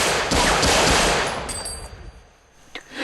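Gunfire bursts loudly in a scene from the 2000 film Get Carter, a rapid crackling volley that fades and then leaves a sharp final report.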